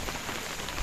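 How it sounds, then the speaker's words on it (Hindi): Steady heavy rain falling outdoors on the IIT Roorkee college campus in India, a dense, even wash of drops with no voices, brief and close around the listener. "आया मौसम बारिश का।"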